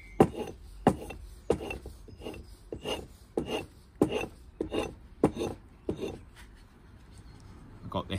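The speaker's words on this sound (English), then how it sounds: "Next up, I'm just gonna strop it. This strop. Gets rid of the last bit of burr." A Council Tool Boys Axe edge is stropped on a leather strop, a close, steady series of about a dozen rhythmic rasping strokes.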